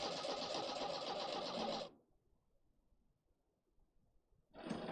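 A fuel-injected car engine cranks and runs loud and steady, cuts out abruptly into near silence for a few seconds, then fires up again.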